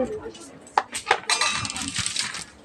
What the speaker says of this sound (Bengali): এবারে আলুগুলোকে উঠিয়ে নেব